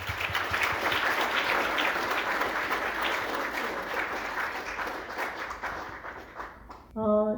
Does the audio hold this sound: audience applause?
yes